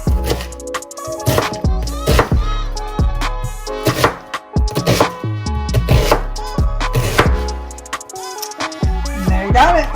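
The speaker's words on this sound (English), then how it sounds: "you can see how quick and easy we can get this diced up" A knife dices vegetables on a cutting board in quick, irregular chops, each a sharp close tap, set against a steady tonal background throughout.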